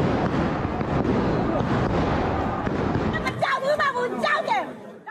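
Loud, dense crackling bursts of gunfire fill a street protest against military forces in Myanmar, continuous for several seconds before giving way to shouting voices and chatter near the end.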